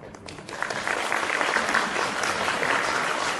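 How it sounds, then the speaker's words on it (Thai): Audience applause welcoming a speaker onto the stage at a Pibulsongkram Rajabhat University academic day, a dense wash of clapping that swells after a brief quieter start and stays steady throughout. "ขอเสียงปรบมือต้อนรับนะครับ"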